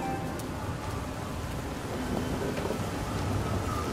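Steady rain pours across a rural English village in the game Everybody's Gone To The Rapture, a dense continuous hiss of drops on wet ground with a faint low rumble of thunder beneath, no voices.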